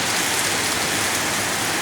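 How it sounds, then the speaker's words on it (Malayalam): Steady, heavy rain pours down in a dense, continuous hiss, close and loud, with no voices. "അതുപോലെ തന്നെ മഴ ചെയ്തു അപ്പോൾ ആ ശക്തി ഒന്ന് കുറഞ്ഞു പിന്നെ ഇതാ വീണ്ടും കൂടി"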